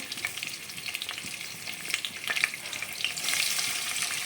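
Chillies frying in hot oil for a soya granules curry give a steady, close crackling sizzle with scattered pops, swelling louder toward the end, with no voices.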